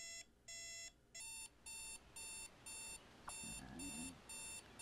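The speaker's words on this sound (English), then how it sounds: "Now I just have an alarm." Alarm clock ringing in the video game Jalopy, a rapid series of regular, evenly spaced electronic beep bursts in a steady on-off rhythm, with a low rumbling noise underneath near the end.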